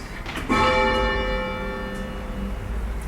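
A church tower bell, rung by pulling its rope, gives one strong ringing strike that hangs on and slowly fades as the clear tone decays.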